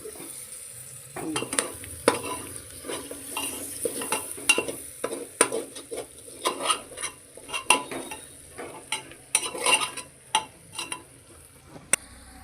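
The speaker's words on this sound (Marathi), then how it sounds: "मसाला घातला ते सगळं परतलं आता बटाटे घालतात" Large potato chunks are stirred into frying onion masala for masale bhaat. Near, irregular scraping and clinking of a spoon against the pan comes in bursts over a constant hot-oil sizzle, with no voices.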